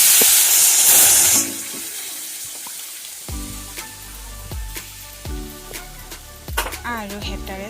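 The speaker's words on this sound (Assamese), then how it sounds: "আৰু হেতাৰে চুজিখিনি ভালদৰে লৰাই দিছোঁ।" Semolina halwa stirred with a spatula in a pan after hot milk is poured in, a loud sizzle and hiss at first, then a series of spaced scraping and clinking strokes against the pan.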